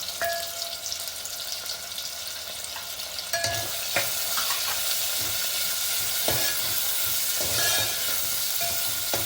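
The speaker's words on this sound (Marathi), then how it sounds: "आता आपण कढीपत्ता घालायचा आहे हिंग घालायचं आहे" Curry leaves and asafoetida sizzle in a hot oil tempering for a festive Ganesh Chaturthi meal. A loud, steady crackling hiss runs throughout, with a few knocks and scrapes of a spoon against the pan.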